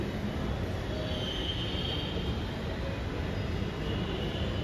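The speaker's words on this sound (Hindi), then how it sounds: "लग तो रहा है कि कोई ट्रेन आ गई है" A Nagpur Metro train arrives at the station, a steady loud rumble of wheels on rails with a thin high squeal running through it, heard close on the platform.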